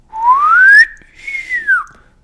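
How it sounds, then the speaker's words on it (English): Whistle sent as an AM signal through GNU Radio: one clear whistled tone rising in pitch, then a second held note that falls away, loud and clean with no talk. "So if I do that whistle again, it should be clear."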